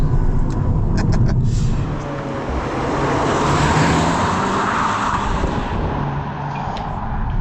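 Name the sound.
Cupra Leon VZx accelerating at full power through a corner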